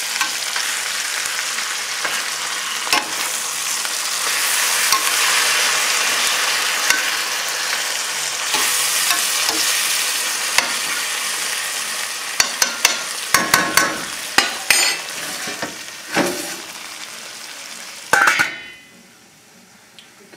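Pork chops crusted with cornmeal and caraway fry in a pan with a loud, dense, steady sizzle. Late in the clip come a few sharp clinks and scrapes of a utensil against the pan, then the sizzling drops away quickly at the very end.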